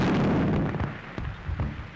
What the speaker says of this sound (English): But what were those explosions? Shells, my dear.